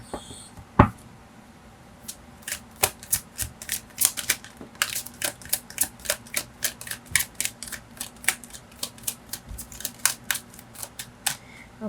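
Tarot cards being shuffled by hand, giving a steady run of crisp riffling clicks and flutters close up, with no talking.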